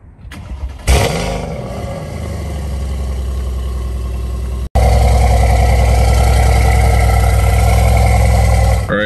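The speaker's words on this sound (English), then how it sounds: "let me try to get this car started up" A car engine cranks and catches, then idles roughly with a steady low rumble. After a brief cut it returns louder and sustained, close to the recorder, with no talk over it.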